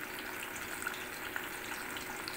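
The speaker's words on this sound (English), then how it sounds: "My second batch of my sweet potatoes. I'm frying it." Sweet potatoes fry in hot oil, giving a steady, moderately close bubbling hiss with faint crackles throughout.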